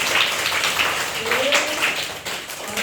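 Children applauding together in a classroom: a dense, steady patter of many small hands clapping for about three seconds, with voices mixed in.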